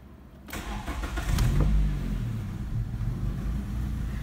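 A Toyota Corolla XEi engine cranks and catches after a brief silence. It revs up sharply, then settles into a steady, fairly loud idle with no one talking.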